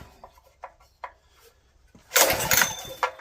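A junkyard Honda GX160 small engine, choke and fuel on at full throttle, gets a pull-start attempt: faint handling clicks and rubs give way to one loud, rough burst of about a second before fading.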